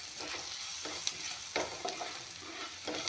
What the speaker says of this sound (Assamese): পিঁয়াজখিনি ৰংগুড়া একেলগে যদি ভালকৈ ভাজি লওঁ